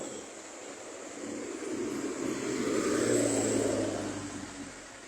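An airplane near the old SMB 2 airport in Palembang rumbles as a broad, steady engine roar that swells toward the middle and slowly fades, heard alone at moderate distance with no talk.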